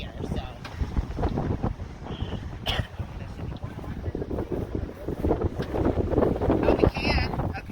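Strong, steady windstorm gusts buffet an RV outdoors, a loud continuous roar and microphone rumble swelling toward the end, with occasional faint clatter and people talking nearby under the noise.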